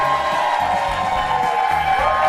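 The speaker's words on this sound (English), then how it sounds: "Audience, get ready to clap again for Jason and Randy Sklar" A studio audience at a comedy talk show claps and cheers for comedians Jason and Randy Sklar, a steady dense wash of applause with scattered whoops lasting throughout.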